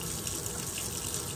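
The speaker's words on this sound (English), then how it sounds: "I try to wash my hands immediately." Water runs steadily from a tap while someone washes their hands. It makes an even, moderately quiet splashing stream into a sink, with no talking over it.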